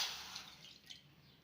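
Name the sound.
water being poured into a pan for sugar syrup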